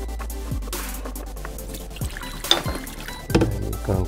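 Liquid draining from the water tank of an inLab MC XL milling machine once the drain plug is removed, a close, steady pouring trickle with a couple of knocks and splashes.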